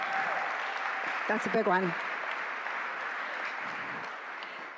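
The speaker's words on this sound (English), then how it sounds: "a big round of applause" Applause from a charity fundraiser audience rolls steadily through the whole stretch, with a voice briefly speaking over it near the middle.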